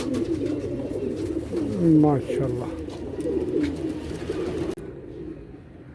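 Lakha pigeons coo in a few soft, rolling calls close by, overlapping a man's spoken words, before the sound cuts to quieter background.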